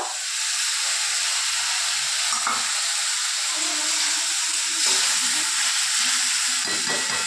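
Onion paste fried with turmeric and meat masala for a meat curry gives a loud, steady hiss close by, with occasional soft stirring sounds.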